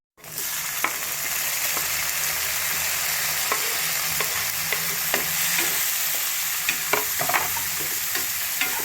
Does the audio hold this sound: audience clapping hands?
no